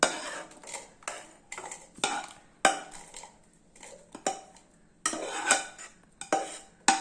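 Sautéed onion and chilli, cooled after frying, are scooped into a mixer jar for a village-style thuvaiyal, with repeated close scrapes and metallic clinks of a spoon against the vessel and no talking.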